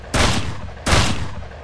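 Two loud 12-gauge shotgun blasts in the survival video game Mist Survival, spaced under a second apart, each a sharp crack with a decaying tail, no talking.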